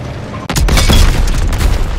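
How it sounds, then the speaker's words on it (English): Enemy tank blowing up in the Call of Duty WW2 campaign: one sudden loud boom that stays as a heavy roaring, rumbling blast for over a second before it starts to fade. "Enemy tank destroyed!"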